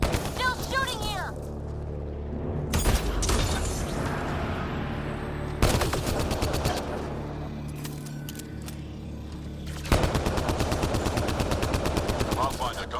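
Bursts of automatic gunfire in the video game Mass Effect: Andromeda, loud rapid volleys starting and stopping repeatedly among other battle noises.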